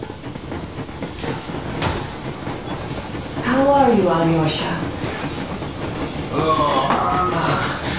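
A steam locomotive runs steadily in the Metro Exodus video game, with a continuous rumbling, hissing rail noise throughout and characters speaking over it.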